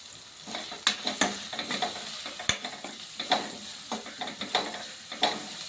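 Ginger and garlic with turmeric sizzle in a hot pan while a spoon stirs them in repeated scraping strokes, a close and steady frying hiss.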